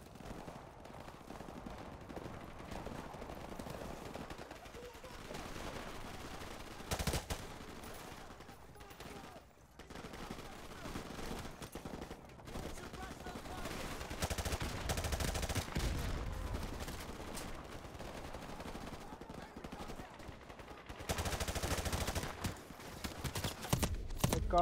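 Gunfire in Call of Duty: Modern Warfare Remastered, bursts of automatic shots and scattered single reports over a constant busy game soundscape, with a player's voice now and then.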